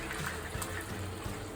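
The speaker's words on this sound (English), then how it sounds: "And so you're going to hear that sizzle." Canned diced tomatoes sizzling in hot oil in a pan for shrimp pasta, a steady dense crackle with low bubbling pops, close and continuous, no voices.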